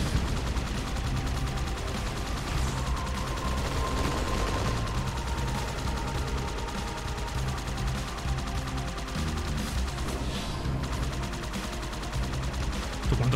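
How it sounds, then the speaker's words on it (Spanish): Continuous gunfire from weapons in the shooter video game Halo 2, dense rapid shots blending with game music in a steady loud wash throughout. "Tiros hay que meterle a esto para que muera"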